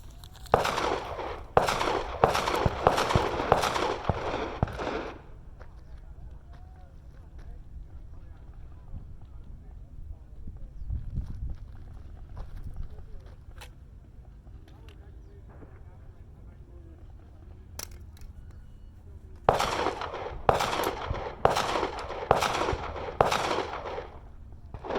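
Two rapid strings of pistol gunshots fired from the ready at an outdoor range, about six sharp cracks at the start and six more near the end, with a quiet gap between.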